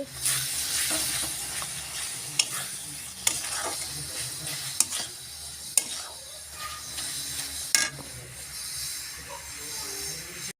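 Red chili powder being stirred into masala in a pan, a low sizzle under a constant hum, broken by sharp metal clinks of a spoon at irregular intervals, with no talking.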